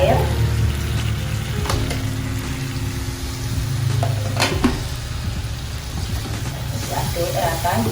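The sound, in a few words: stirring egg stew in the pan after adding water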